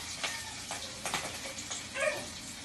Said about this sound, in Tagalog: nagbukal-bukal yung mantika sa sobrang init niya